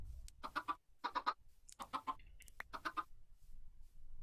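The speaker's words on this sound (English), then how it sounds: "we've got, I think, 3 chickens in here" Chickens in a modded Minecraft world cluck in short repeated bursts, several clusters of clucks from a small group of about three birds, fairly close and with no talking.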